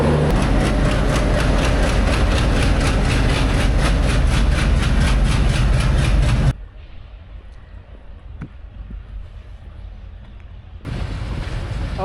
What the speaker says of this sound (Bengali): আমাদের ইঞ্জিন শান্টিং করা হচ্ছে